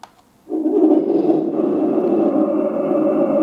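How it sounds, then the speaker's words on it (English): A YK26 transmitter and TK26 sound board for a 1:16 remote-control tank play a simulated engine: a low, rumbling idle drone that starts abruptly after a short silence and holds steady and loud. "This is the first engine sound."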